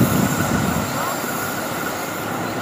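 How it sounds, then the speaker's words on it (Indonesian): The Argo Lawu express train rushing through a station switch, a loud close rumble of wheels and clatter with a high squeal, steady throughout with faint voices under it. "kereta api Argo Lawu dari Solo Balapan tujuan akhir stasiun Gambir"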